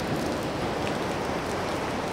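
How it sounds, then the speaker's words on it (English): Steady, dense rain blown by wind at a beach makes a loud, continuous hiss with no talking. "the wind actually picked up and just blew the rain right in."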